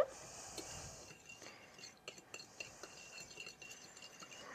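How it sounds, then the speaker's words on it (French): Egg, milk and sugar are stirred in a bowl, giving soft scattered clinks and scrapes of a utensil against the bowl, faint and close, with brief pauses. "Je vais mélanger"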